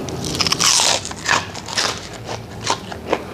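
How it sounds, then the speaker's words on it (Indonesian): Crunchy fried corn fritters (bakwan jagung) being bitten and chewed up close, several loud crisp crunches followed by softer crackling chews, with no talking. "Ini luarnya garing ya. Dalamnya itu lembut, gurih, crunchy-crunchy manis dari jagung manisnya."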